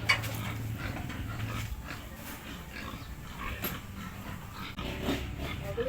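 Pigs grunt and squeal faintly while being hauled out at harvest time on a farm, a low rumble of animal noise and scuffling under a steady background hum, with no clear voices.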